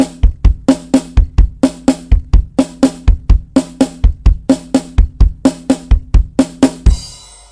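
Drum kit playing a repeating sixteenth-note pattern of two kicks followed by right and left hand strokes, steady and loud, with no talking over it and a cymbal ring-out at the end.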